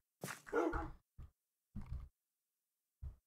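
Puppy in Minecraft giving several short barks and yips: one longer bark followed by three brief separated yaps, close and clear with silence between them.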